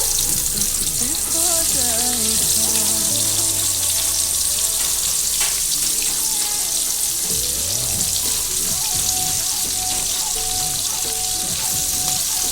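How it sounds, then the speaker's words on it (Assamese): Onions frying in hot oil for a yogurt meat curry, a loud, steady, close sizzle that runs unbroken throughout, with no voices. "তেল গৰম হ'ল মই পিঁয়াজ দিব লৈছোঁ"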